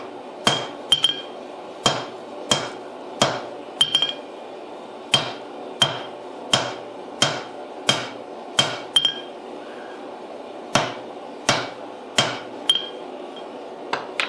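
A hammer strikes a Damascus billet during forge welding, ringing out about twenty sharp metallic blows in a steady, evenly spaced rhythm, close and clear with a brief ring after each.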